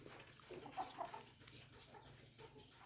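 A chicken gives a few soft clucks, faint and somewhat distant, over low background noise with a brief sharp click partway through.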